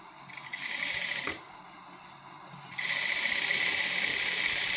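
Sewing machine stitching a curved princess-cut seam in fabric, two steady whirring runs split by a short pause, close and fairly loud.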